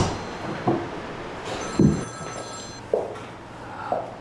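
A telephone rings in an office meeting room, with a few short separate rings spaced about a second apart. It sounds moderately close, with quiet room tone between the rings and no speech.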